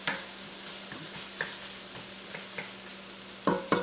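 Onions, celery and carrots softening in olive oil over medium-high heat give a low, steady sizzle, broken by light scraping stir clicks and a couple of louder stirs near the end.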